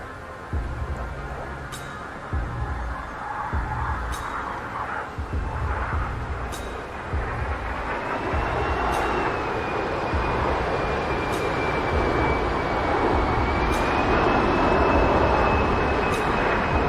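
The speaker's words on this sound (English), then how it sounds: "this slow speed pass will give you a good chance to look at the A-10's bypass engines" A-10 jet with bypass engines making a slow low pass in DCS flight simulator, a loud steady turbofan roar with a high whining tone that bends in pitch, rhythmic faint ticks throughout.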